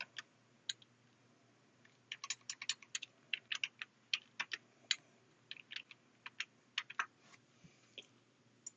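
Computer keyboard typing in quick irregular bursts of crisp clicks, close and fairly quiet, with short pauses between runs of keystrokes.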